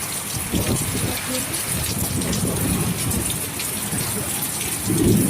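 Dense, continuous downpour drums hard on surfaces, a low rumble rising briefly toward the close.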